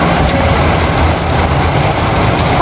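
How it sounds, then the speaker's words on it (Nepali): Heavy rain pouring down in Kathmandu near Boudha, a loud, dense, continuous splashing roar close by, with no talking. "कत्रो ठुलो पानी पर्यो"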